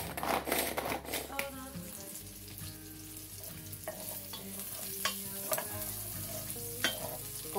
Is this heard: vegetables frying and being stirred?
yes